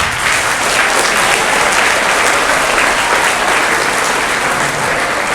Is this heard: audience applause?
yes